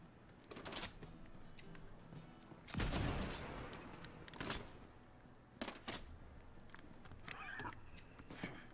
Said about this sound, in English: it's a turret weapon